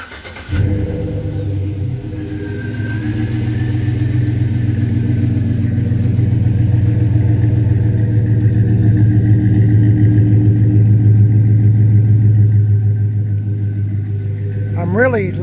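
Idling engine of a 2007 Chevy Silverado pickup fitted with a new exhaust, a steady deep rumble held close and loud for the full stretch, with a short rise in the revs at the very end.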